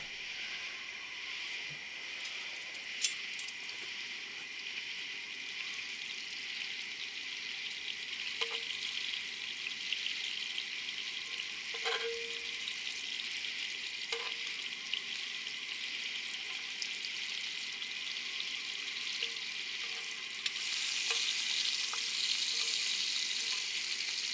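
Food fries in a large, lightweight carbon steel pan outdoors, a soft continuous sizzle with a few faint clinks and scrapes, growing slightly louder near the end.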